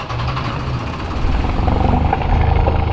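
A sailboat's inboard engine runs steadily nearby, pushing cooling water out of the exhaust, a loud continuous rumbling drone that grows slightly stronger partway through.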